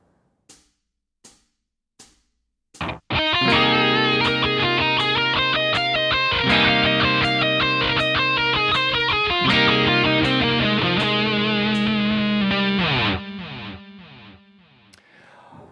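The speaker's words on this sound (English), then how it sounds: "our demonstration of how these pentatonics sound when we substitute them for other types of pentatonics" A distorted electric guitar plays minor pentatonic phrases over chords, opening with a few sparse plucked notes before sustained chords and busy lead lines ring out together, then fading at the end.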